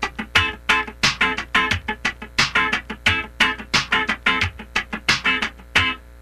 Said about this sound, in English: you may have played it scratching the whole way through